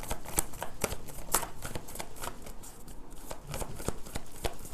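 Tarot cards shuffled close up in a steady stream of crisp papery riffles and slaps, with regular sharp flicks throughout, continuous and moderately loud with no speech.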